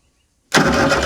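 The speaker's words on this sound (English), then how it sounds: "I'm just going to short the starter motor out and see if it will turn, see if it will come to life." After a moment of silence, the engine of an old VW fire truck, unstarted for over 20 years, abruptly cranks on its starter motor with a loud, close, steady churning that carries on to the end.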